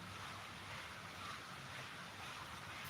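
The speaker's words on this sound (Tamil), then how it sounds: "காற்று பயங்கரமாக அடிக்குது" Strong wind roars steadily outdoors, a loud, unbroken rush that buffets the microphone for the whole stretch, with no voices over it.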